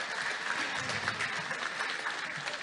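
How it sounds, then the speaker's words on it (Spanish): Crowd applause at a school inauguration event in Bolivia, a dense, continuous roar of clapping that stays even and somewhat distant throughout. "Un aplauso para ellas"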